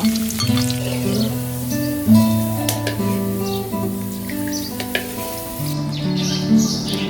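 Shallots and garlic frying in oil give off a steady, soft sizzle that sits low beneath louder background music and carries on throughout.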